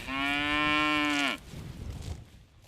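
A dairy cow on a farm near Lake Ellesmere gives a single loud, drawn-out moo, held steady for over a second before it stops, followed by faint farmyard background noise.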